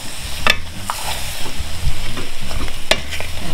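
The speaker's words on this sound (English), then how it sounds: "I'm just gonna stir a little bit" A spoon stirs seafood gumbo in a pot over the heat, close scraping strokes and clinks over a steady sizzle, several knocks against the pot, no voices.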